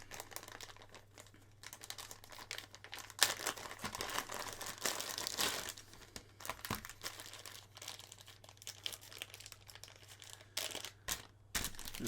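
Plastic bags holding kit parts for a DIY handheld games console crinkle and rustle up close, in irregular bursts of crackling handling over a faint steady hum.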